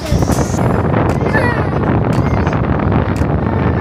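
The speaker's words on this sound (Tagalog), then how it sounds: "Ganyan ang hangin dito sa aming Hong Kong." Strong wind at Ngong Ping, Hong Kong, roars and buffets the microphone steadily, a loud continuous rushing noise with occasional gusty swells.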